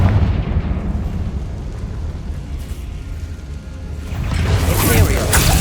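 A Confringo fire spell in Hogwarts Legacy bursts with a loud, rumbling explosion that swells toward the end, set against continuous combat noise, with speech heard at times.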